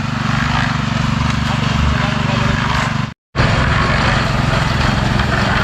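A concrete mixer engine drones continuously at a construction site where posts and walls are being poured. The loud, steady motor hum cuts out for a split second midway, then resumes, with people talking in the background.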